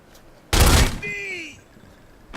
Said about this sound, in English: Alright, shotgun standing and kneeling.